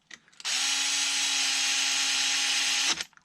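A power tool gun tightens a part on a HoBao MTX center differential, giving one steady, loud whir of about two and a half seconds that starts and stops abruptly, close to the mic.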